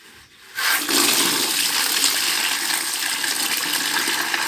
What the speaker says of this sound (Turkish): yeni kombinin peteğin içerisinde su dolsun diye bekliyorum